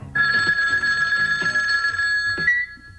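A telephone rings with a steady electronic trill for about two and a half seconds, close and loud, then cuts off.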